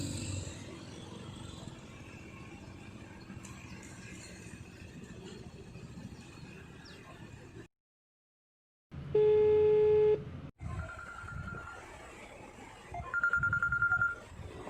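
Quiet background noise, then a short silence followed by electronic telephone tones: a steady beep and later repeated higher beeps.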